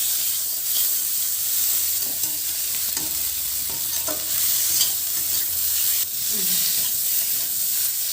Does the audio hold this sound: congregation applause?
no